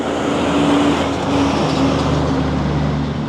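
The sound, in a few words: triaxle dump truck driving past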